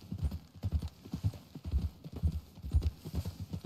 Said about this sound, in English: Try not to get kicked by a horse.